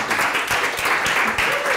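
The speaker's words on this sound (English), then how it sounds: "Let's have a round of applause" A small gathering at a coffee house session applauding a paper aeroplane throw, steady dense clapping throughout with voices mixed underneath.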